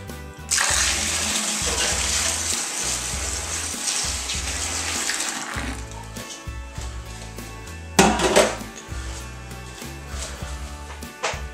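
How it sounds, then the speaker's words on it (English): Water pours in a steady gushing stream into a vessel of homebrew IPA to aerate it, lasting about five seconds before stopping, followed by a few softer splashes and clunks nearby. "We'll add a little bit of water to aerate it."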